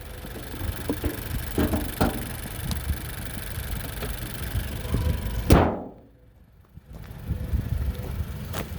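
A 2019 Honda Civic Hatchback Sport with a 6-speed manual idles smoothly up close, a steady engine hum broken by a few clicks, then a brief whoosh and a moment of near silence before the idle returns.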